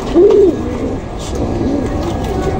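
A hen gives a low, groaning coo, first in one short louder call and then a fainter, drawn-out murmur that follows it.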